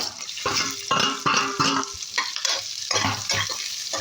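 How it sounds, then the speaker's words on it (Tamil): Fennel seeds frying in oil in a pan with green chili and ginger added, a steady close sizzle broken by repeated stirring scrapes and clinks of a utensil against the pot. "நல்லா இதுவாகிடுது, ஃப்ரை ஆகிடுது சோம்புலாம்."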